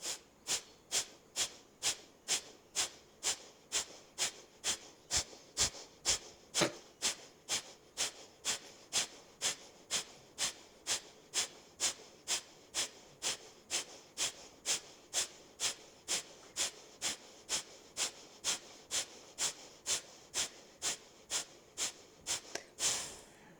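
Kapha breathing exercise: a long series of sharp, forceful nasal exhales in a fast, steady rhythm, close to the microphone, with no talking.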